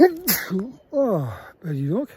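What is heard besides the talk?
sneeze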